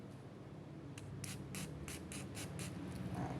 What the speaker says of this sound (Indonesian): Oke, kita semprot aja, nggak usah banyak-banyak